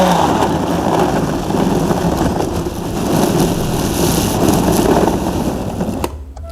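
A blender whirs loudly and steadily while blending herbal jamu ingredients, its motor droning at a constant pitch for about six seconds before cutting off abruptly.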